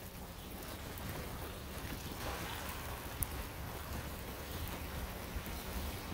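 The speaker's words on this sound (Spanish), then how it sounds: "Y todo está lloviendo." Steady rain falling during an ice storm, a constant close wash of drops and hiss with faint gusts of wind, continuous and even throughout with no talking.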